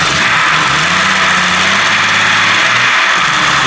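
A Jeep 4.0 engine idling on 0W20 fully synthetic oil, a loud, steady close-up drone with a low hum and some valvetrain ticking, running continuously with no pauses.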